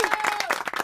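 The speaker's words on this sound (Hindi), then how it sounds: "एक बार जोरदार तालियां बजाओ यार." A brief burst of audience clapping, a few quick claps at moderate volume, mixed with a raised voice over it.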